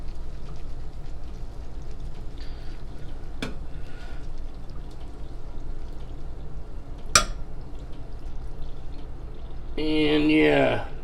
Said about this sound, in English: Gotta shake all the water out of your noodles